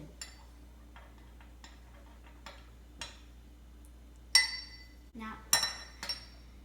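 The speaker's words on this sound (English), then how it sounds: "Now we're going to set the tablespoon aside and stir it up with a spoon." A spoon stirs honey mint lemonade in a glass, giving a few light, scattered clinks against the glass over a quiet background, with the sharpest taps near the end.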